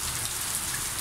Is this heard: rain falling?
yes